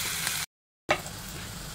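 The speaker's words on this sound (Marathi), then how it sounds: "कांदा परतला की आपण त्यात चिरलेली सिमला मिरची टाकूया." Chopped capsicum fries with onion in a pan, a steady close sizzle that cuts out for a moment and then resumes with the same hiss.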